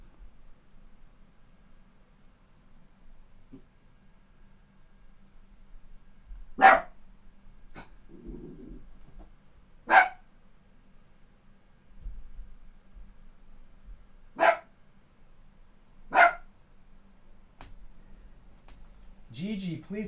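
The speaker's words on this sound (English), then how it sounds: "please stop barking" A dog barks sharply several times at irregular intervals, fairly close, with quiet room noise between the barks and a brief voice near the end.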